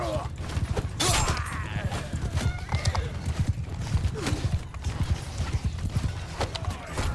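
Horses neigh and whinny over a steady thunder of hooves in Mount & Blade 2: Bannerlord, with creaking and clatter of a busy battle scene with horse archers filling the background.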